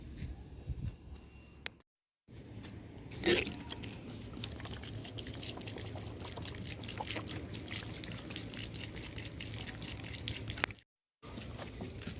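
Water poured from a container onto potted rooftop plants, a steady trickling and splashing that runs close and continuous for most of the span, with two brief silent gaps and outdoor background noise.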